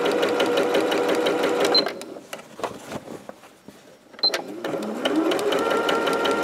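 Sewing machine stitching a fabric tote bag, running loud and steady for about two seconds, pausing briefly, then starting up again and stitching to the end.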